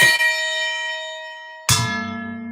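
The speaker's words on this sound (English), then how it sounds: "Hit the gong." A gong is struck twice at close range, each hit ringing out in a bright metallic tone that slowly fades, with the second strike following about a second and a half after the first.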